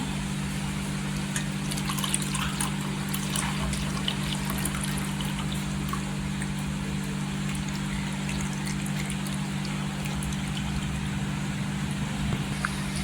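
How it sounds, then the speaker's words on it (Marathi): Jaggery tea pours into a cup as a steady, soft trickle, continuous for the whole stretch over a constant low electrical hum, with no talking. "आता आपण कपात ओतून घ्यायची इथे बघा चहा ओतायची"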